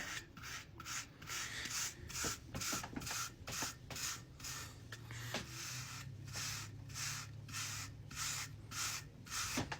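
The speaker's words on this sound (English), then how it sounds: "So I brush until I feel like the product is distributed evenly around my whole head." A brush works product through hair in quick repeated strokes, each a close, scratchy rasp, coming in a steady rhythm with no talk.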